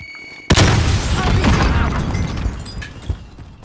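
A loud, close grenade blast in Call of Duty: Warzone erupts suddenly, followed by a long rumbling, debris-filled decay and a smaller pop near the end, with a faint voice underneath.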